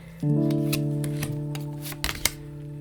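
Tarot cards are shuffled by hand in a few quick riffling bursts, close and crisp over a steady low electrical hum, with no talking.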